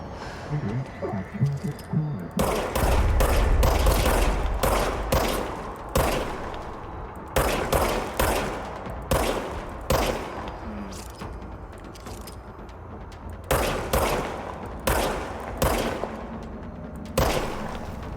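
Gunfire in the video game Control: a loud low rumble of shots early on, followed by repeated sharp bursts in an uneven rhythm through the rest, with no talk over them.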